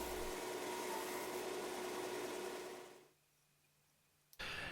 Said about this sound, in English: I'm just going to use this disc sander to even out the rough edges and make this a little bit more symmetrical